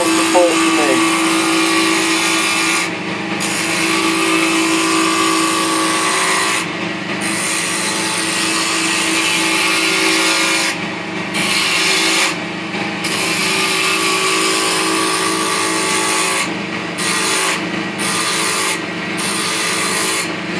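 A wood lathe turns a timber snowman ornament as a tool scrapes against the spinning wood, making a steady rough rubbing with brief breaks where the cut pauses.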